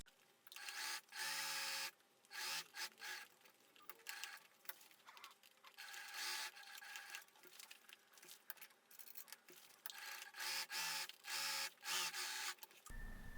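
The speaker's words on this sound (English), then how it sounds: "I'm gonna sew all around these edges." Sewing machine stitching around the edges of a backpack strap, in bursts of fast rhythmic stitching with short pauses between runs, close and fairly loud, no talking.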